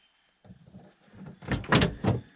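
A heavy custom EGR canopy lid with a rooftop tent on a Nissan Navara D23/NP300 STX opens on struts, with soft creaks and rattles building to two louder clunks near the end, close by.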